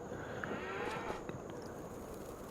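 Mature Swiss cows in Farming Simulator 25 low softly under a steady, hissy farm ambience, the moos faint and drawn out rather than close or loud.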